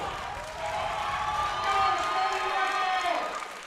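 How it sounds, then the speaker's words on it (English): Crowd at a weightlifting competition, the APA Open Nationals, cheers and shouts loudly and steadily in a large hall as an athlete prepares a lift, the roar swelling and holding throughout. "Crowd is going wild for Anthony."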